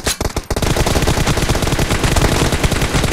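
Loud gunfire in a mobile shooter video game, rapid dense bursts of close shots that continue without pause for about three seconds, with no talking.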